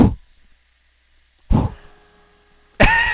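A voice imitating farts: three separate bursts, each a short sputtering blast that trails off, spaced over a few seconds with quiet between, close and loud.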